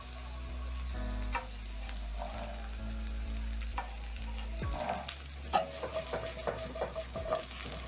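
Potatoes and sausages frying in a pan give a close, steady sizzle with sharp spatula scrapes and taps toward the end, moderately loud with no talking.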